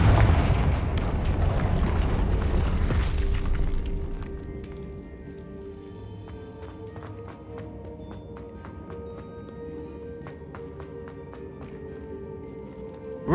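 A Confringo fire spell explodes in Hogwarts Legacy on PS5 with a loud, broad blast lasting several seconds. Fainter crackling, ringing game effects and ambience follow and trail on.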